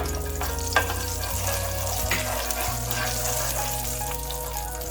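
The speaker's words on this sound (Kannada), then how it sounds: "ಚಕ್ಕೆ, ಲವಂಗ, ಏಲಕ್ಕಿ ಇವು ಹಾಕೋಣ. ಹಾಗೆ ಇದರ ಜೊತೆಗೆ ಸ್ವಲ್ಪ ಸೋಂಪು," Whole spices (cinnamon, cloves, cardamom and fennel) frying in hot oil for Hyderabadi paneer, a steady close sizzle with occasional crackles and pops, no voices.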